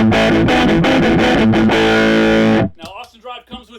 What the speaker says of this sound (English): then the lower distortion drive.